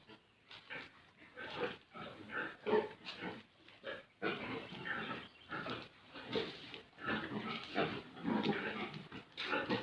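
Pigs grunt and snort almost continuously, close by in a storm-damaged piggery, in irregular bursts with short pauses between them.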